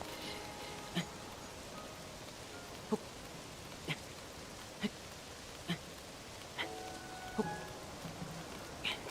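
Steady rain in Zelda: Tears of the Kingdom, a soft continuous hiss of falling drops with a few sharp isolated ticks and plinks scattered throughout, quiet and even with no talking.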